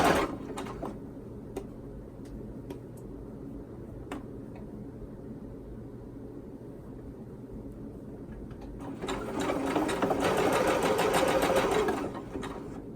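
A sewing machine zigzag top-stitches a knit neck binding at about 2.5 stitch length, running with a steady close whir and light ticking throughout, then speeding into a louder, denser burst near the end.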